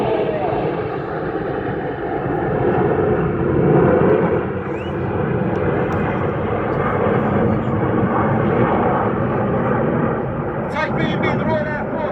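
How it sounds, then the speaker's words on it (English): An RAF Typhoon fighter jet passing at an air display at RAF Cosford, a loud, broad roaring rumble that swells and fades as it sweeps by, with a public-address commentator talking over it. "in celebration of 20 years of the Royal Air Force Typhoon display team, from the right, this is Typhoon!"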